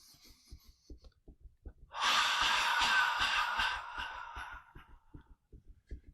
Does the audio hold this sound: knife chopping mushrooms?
no